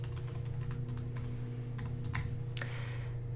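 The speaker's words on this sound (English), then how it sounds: "Let's type it in and see." Quick keystrokes on a computer keyboard, a scattered run of light clicks over a low steady hum, fairly faint and with no talking.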